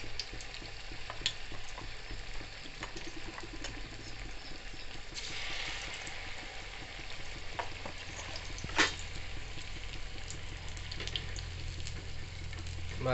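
Ridge gourd bhaji pakoras bubbling in hot oil, a continuous crackling sizzle with a sharp clink partway through, heard without any speech.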